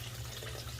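Steady running water from a small waterfall feature in an aquarium turtle tank, a continuous splashing trickle heard close and alone, unchanging throughout.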